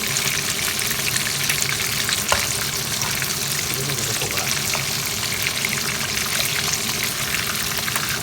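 Frog pieces deep-frying in hot oil, a loud continuous bubbling sizzle close by, with occasional small pops and no voices.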